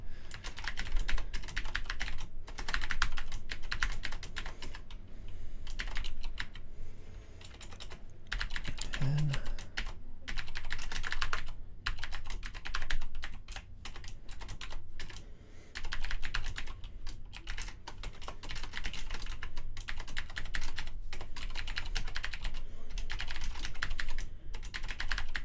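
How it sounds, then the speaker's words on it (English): Rapid, steady clatter of keys being typed on a computer keyboard, close and continuous throughout with only brief pauses between bursts, and no talking. "I think I'm going to go ahead and type up"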